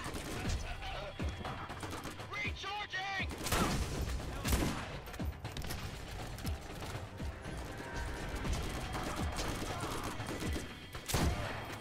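Borderlands co-op gameplay with bursts of rapid gunfire and clattering weapon mechanisms, dense and fairly loud with a few heavier thumps, and faint talk underneath.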